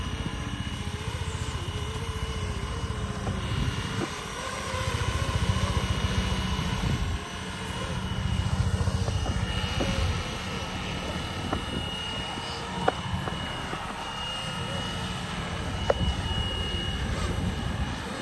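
FlyWing RC helicopter, a 3D-printed Cobra mod with an AS350 Squirrel head, flying outdoors in wind, its rotor whine holding steady and close throughout, with wind buffeting and occasional faint voices beneath.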